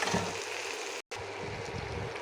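Fried mixed vegetables are tipped into a pan of cooked spices and dried fish, giving a dense, steady sizzling hiss close by, briefly cut off for a moment before resuming.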